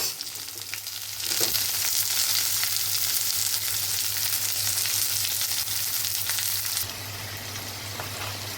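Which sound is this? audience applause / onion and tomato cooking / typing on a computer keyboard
onion and tomato cooking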